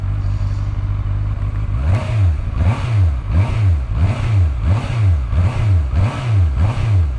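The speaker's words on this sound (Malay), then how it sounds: "aku nak payung dulu korang dia punya bunyi 4 inline" An inline-four motorcycle engine revs close by in repeated blips, about ten rises and falls of pitch in steady rhythm, after a brief stretch of low idle at the start; loud and alone, no talk.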